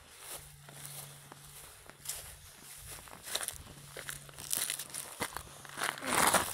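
Footsteps crunching and crinkling through dry leaves outdoors near a dam, a steady run of soft irregular steps that grows louder and closer toward the end, with a faint low hum underneath.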